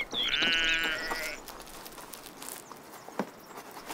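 A sheep bleats once, a clear, wavering call out on open grazing grounds among oak trees, followed by quiet shuffling and faint steps in the field.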